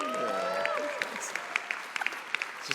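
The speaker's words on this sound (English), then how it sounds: "It's just a small round of applause for Tom's beauty there." A small audience gives a brief round of light scattered clapping, individual claps popping out over a lively background of voices and chatter.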